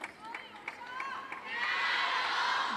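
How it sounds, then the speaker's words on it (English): A table tennis crowd at a women's singles match at the WTT Championships chants a player's name in a rhythmic pulse, then swells into loud, sustained cheering that fills the arena. "Plenty of support for her here in the crowd. You can hear them chanting her name."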